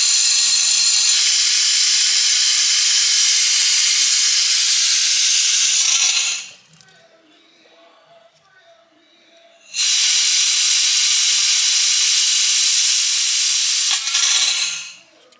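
Compressed air hisses loudly and steadily from a pressurized bleeder setup while brakes are bled on a car with a failed hard brake line, cutting off for a few seconds of near quiet before a second long hiss, no talking.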